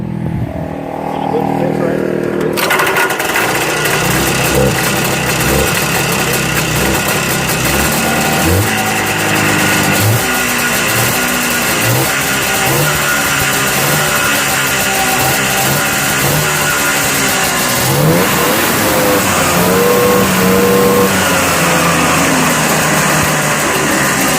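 A vintage snowmobile engine starts up abruptly and then runs and revs loud and close, its pitch rising and falling repeatedly while people talk over it.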